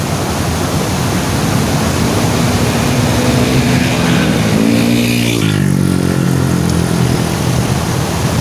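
Busy road traffic with motorcycles and cars streaming past, a loud continuous roar with one engine rising and falling in pitch as it passes close, no voices.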